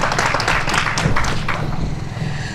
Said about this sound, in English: Commissioner Castaneda, let's give her a round of applause as she comes up to give her remarks.